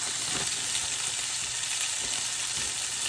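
Steaks sear undisturbed in a pan on medium-high heat, giving a constant, dense sizzle with faint pops and occasional soft clinks, no one speaking.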